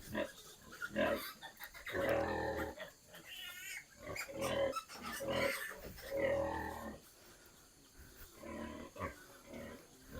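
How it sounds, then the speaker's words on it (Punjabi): Pigs grunt and squeal over and over in a crowded pen on a pig farm in Nagaland, loud and close, forming a continuous chorus of snorts. "ਇਹ ਤਕਰੀਬਨ ਸਾਰਾ ਸੂਰ ਦੇ ਫਾਰਮ"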